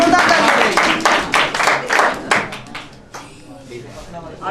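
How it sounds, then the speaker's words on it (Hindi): Loud, close applause from a quiz audience rewarding a right answer, vigorous clapping that tapers off after a few seconds into lighter scattered claps and murmuring. "राइट आंसर पर जोरदार तालियां।"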